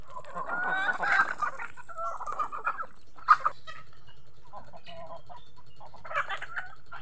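Shamo crossbreed chickens cluck and squawk nearby in scattered bursts, with a few sharp cries and quieter chatter between them over a soft background.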